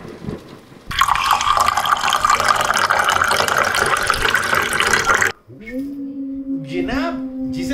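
Steady broadband splashing of liquid pours continuously for about four seconds, jokingly passed off as a man urinating, then stops abruptly before a brief tonal sound and some muffled activity follow.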